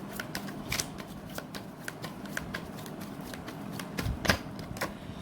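Tarot cards shuffled and drawn by hand, a quiet run of crisp riffling snaps and flicks at an uneven pace, with a sharper flurry near the end.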